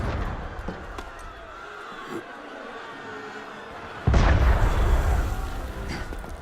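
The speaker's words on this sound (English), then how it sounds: "That was cannon fire." A single heavy cannon blast in Assassin's Creed Unity lands suddenly after a stretch of low, murmuring ambience, then its deep boom rolls on and lingers. Nobody speaks.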